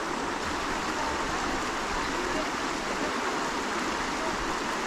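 Steady broadband rush of a creek running over rocks in the Great Smoky Mountains, continuous and fairly close, with no clear voices.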